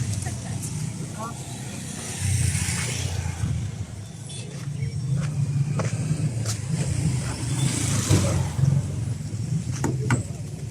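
A car called the Bouraq 2 runs with a low engine rumble and occasional revving, while people talk over it throughout.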